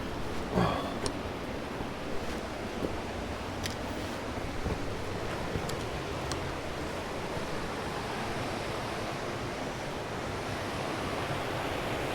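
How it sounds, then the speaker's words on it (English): Small waves lap continuously at a little river beach in a gorge, a steady soft wash of water with no voices. "Anybody want to spend a day at the beach? It's a little one, but it's a beach."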